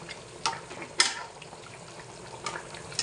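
Hyacinth bean seeds fry in a pan with a soft, continuous sizzle broken by a few sharper crackles and pops.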